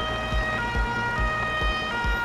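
An ambulance siren in the Firefighters 2014 video game wails steadily and fairly loud, with regular low thumps pulsing underneath about every half second and no one speaking.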